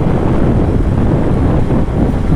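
Wind roars steadily into the microphone while riding a motorbike near Songadh, India, on the way to a waterfall: a loud, continuous low buffeting rush with no voices.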